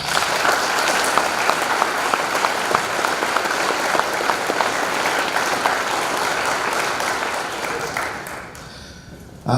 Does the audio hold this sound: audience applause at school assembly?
yes